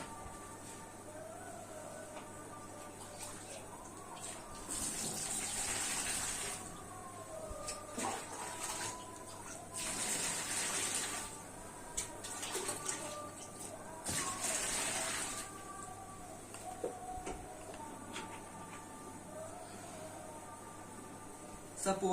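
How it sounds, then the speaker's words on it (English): Water poured as mock flood water into a science exhibition model of a bamboo-and-mud floating house, rushing in three or four separate bursts over a quiet, faintly hissing background. "Suppose this is flood water."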